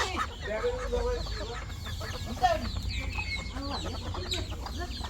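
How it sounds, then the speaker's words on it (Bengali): Domestic ducks give a busy run of overlapping quacks and short calls close by, with no talk over them. "এই যে হলো আমার হাঁস"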